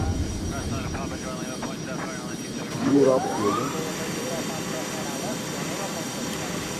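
An airliner climbs away in the mobile flight game Airline Commander, its jet engines giving a steady, moderate roar with a brief swelling whoosh midway, heard under someone speaking.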